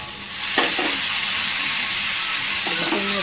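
Mango pieces sizzle steadily in a hot pan with chilli, a loud continuous frying hiss, broken by two bursts of spatula stirring and scraping, with no talk over it.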